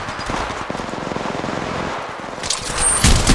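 Rapid automatic gunfire from a video game shooter, sustained bursts of close, loud shots with a brief pause and then heavier firing near the end, alongside game sound effects.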